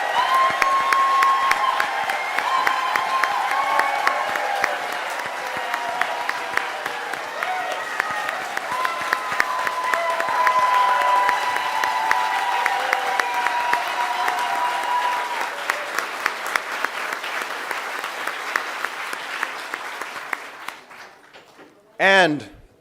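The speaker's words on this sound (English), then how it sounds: "Big round of applause." A Canada Day rally crowd applauds and cheers an introduced speaker, loud steady clapping with whoops that gradually thins and fades out, followed by a brief burst of sound at the end.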